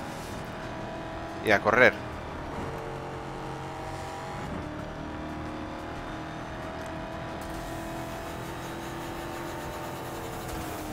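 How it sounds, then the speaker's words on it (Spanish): A race car engine in the video game ExoCross revs hard with turbo boost, a sustained engine drone with shifting pitch running steadily under a voice talking. "Pisamos a fondo, le damos caña con el turbo"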